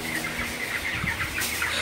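A flock of 23-day-old broiler chickens on a farm in hot weather keeps up a dense, continuous chatter of clucks and peeps, fairly close and without talk.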